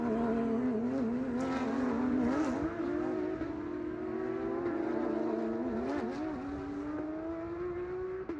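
Porsche race cars in a club race at Sebring, with a loud, continuous engine roar whose pitch rises and dips as the cars accelerate and shift, heard from trackside and with no voices over it.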